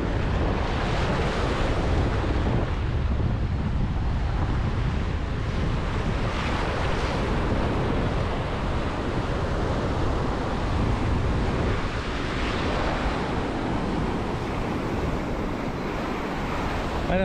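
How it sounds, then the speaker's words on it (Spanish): Ocean waves break steadily on a beach at Playa del Carmen, a continuous loud surf roar with some wind buffeting the microphone and no voices. "escuchar el ruido de las olas"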